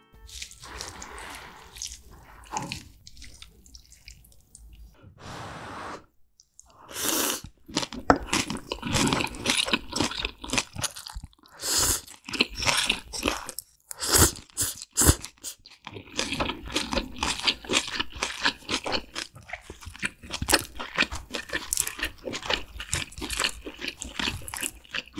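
Close-up crunching and wet chewing of homemade Vietnamese food, fried spring rolls, rice paper rolls and beef pho, with sharp crisp bites, slurpy drips and steady mastication throughout, no talking.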